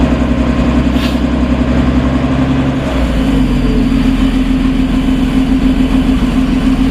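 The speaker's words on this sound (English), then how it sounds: "And it's idling much better, which is a good thing." A 1980s Clark airport tug engine idles after a cold start, a steady low rumble that runs evenly throughout, close and loud, with no talking.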